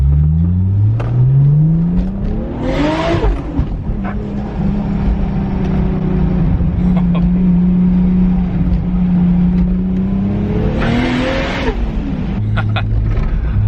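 A single-turbo Toyota Supra MK4 engine roars and revs, its pitch climbing and falling through gear changes, loud and close, with no speech over it.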